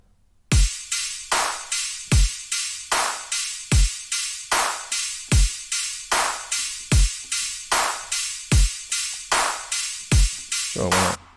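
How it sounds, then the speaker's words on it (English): A loud, steady EDM drum beat made for dubstep sound design thumps with hard kicks and bright snares and hats over a sustained tone, repeating evenly for about eleven seconds with no voices. "So this is how our EDM drums sound."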